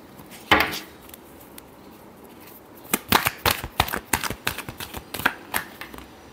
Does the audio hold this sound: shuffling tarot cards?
yes